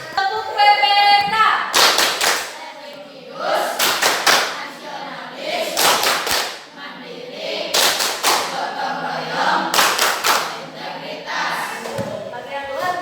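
A group claps in a patterned rhythm, bursts of quick claps alternating with short pauses, repeated several times with voices chanting along.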